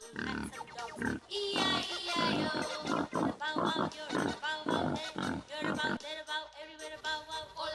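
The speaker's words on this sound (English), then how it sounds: "Pig." A pig oinks and grunts in a rapid string of loud, close calls that run almost without pause.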